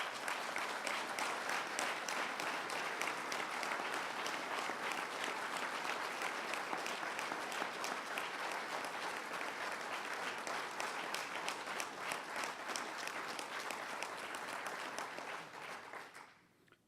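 Sustained audience applause at the Nano Utica announcement honoring Governor Andrew Cuomo, a dense steady roar of many clapping hands that holds evenly throughout and fades out at the end.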